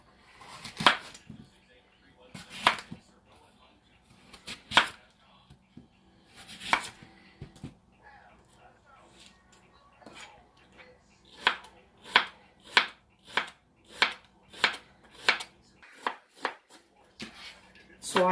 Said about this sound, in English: So I've got my apple chopped real nice and fine like this.